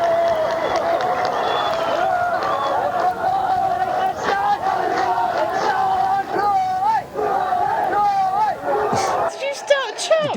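A crowd cheers and shouts in a dense, loud babble of many voices with whoops and yells, lasting several seconds before it cuts off abruptly near the end.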